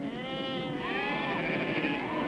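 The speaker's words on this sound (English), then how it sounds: "This flock is being herded into an area which is fenced to keep the kangaroos out." A flock of sheep on an Australian station bleats continuously while being herded toward a fenced area, many overlapping calls close and steady with no talking.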